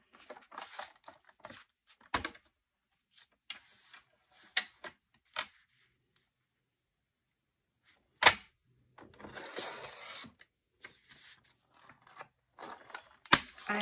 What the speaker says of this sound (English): I have a Fiskars Precision print cutter.